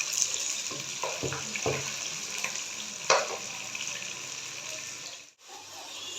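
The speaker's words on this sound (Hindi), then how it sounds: "अब इसमें डाल दूँगी भिंडी। अच्छे से फ्राई कर लेते हैं इसको।" Okra fries in hot oil for Hyderabadi masala bhindi, a steady close sizzle marked by several clicking stirs and one sharp knock, briefly cutting out near the end before the hiss resumes.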